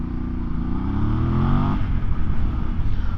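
A Voge DS800X Rally adventure motorcycle engine revs up with a rising, loud drone, then settles into a rougher, throbbing rumble as the bike pulls away up close.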